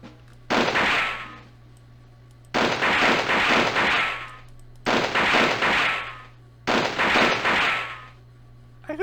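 Gunfire in the Army Men video game: four loud sustained bursts of rapid fire, each lasting about one and a half seconds, separated by short pauses over a low steady hum.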